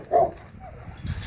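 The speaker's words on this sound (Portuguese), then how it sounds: "Tá aí a cachorrada do Neto, ó." Hunting dogs bark during a wild boar hunt, with one loud bark near the start and a rougher burst toward the end, over a low outdoor background.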